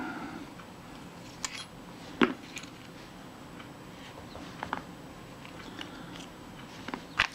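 Small metal-on-metal clicks and scrapes come from unscrewing the name ring off a Kodak Retina-Xenar f/2.8 lens, sparse and close, with a few sharper ticks against a quiet room.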